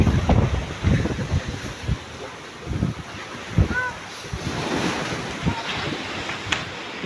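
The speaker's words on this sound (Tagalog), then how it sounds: "Yun, puti-puti na ang alon." Sea waves with whitecaps washing and breaking in gusty wind from a boat on open water, steady rushing roar with wind buffeting the microphone and occasional louder surges.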